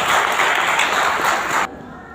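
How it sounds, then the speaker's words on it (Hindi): A roomful of people at a Safe Shop gathering applauds loudly in a dense, steady wash of clapping that cuts off abruptly after under two seconds, leaving a faint hum. "जोरदार ताली।"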